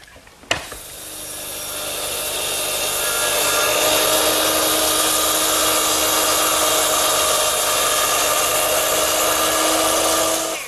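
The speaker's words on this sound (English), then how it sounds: "Now I'll do that for all the other cross cuts." Continuous close power saw cutting across wood for the sides of Shaker step stools, starting with a sharp knock and then rising into a steady, loud whine and rasp that holds to the end, with no talking.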